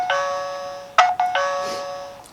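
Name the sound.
smart doorbell chime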